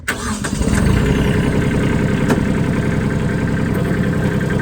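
Kubota B2140 tractor engine starting in a field, a brief crank catching into a loud, steady diesel idle that runs on without a break.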